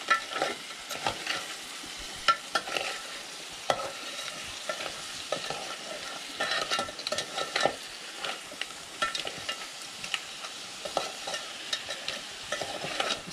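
Crab pieces and masala with onion are stir-fried in a pot, giving a continuous sizzle with repeated scraping and clattering stirs close up, no talk.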